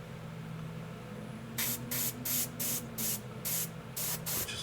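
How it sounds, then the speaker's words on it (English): A spray bottle spritzes while skin tones are painted, giving about eight quick, evenly spaced hissing puffs after a quiet start, close and clear over a low background hum. "here I'll spritz a little bit"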